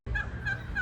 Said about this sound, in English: He likes the turkeys the best. Oh, Yeah, because they're loud.